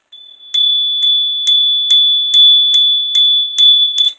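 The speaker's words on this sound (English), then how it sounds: "when the bell gets to a higher frequency, the frequency is raising" A small bell rings steadily, about nine bright, sharp strikes at roughly half-second intervals, each leaving a sustained ringing tone between hits; loud and close, no talking.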